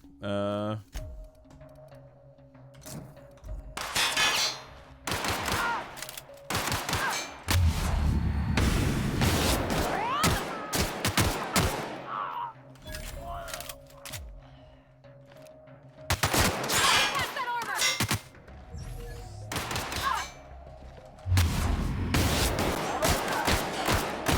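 Gunfire from The Outer Worlds video game, a firefight of repeated shots and bursts in scattered clusters, loud and close, mixed with game effects and tonal music, with players talking between the volleys.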